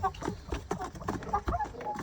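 Local village chickens cluck repeatedly while pecking at scattered feed, a busy overlapping chorus of short, close clucks with an occasional brighter call.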